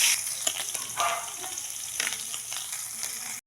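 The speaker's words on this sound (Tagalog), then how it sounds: "Naprito na po natin yung ilang piraso and then prito po natin yung iba pa." Pieces of pork frying in a pan, a close, continuous sizzle with a few stirring and scraping clicks and a brief cutoff near the end.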